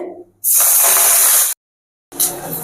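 Susni shak greens drop into hot oil in a pan, setting off a loud burst of hissing sizzle that cuts off abruptly, followed by a short silence and another sizzling burst.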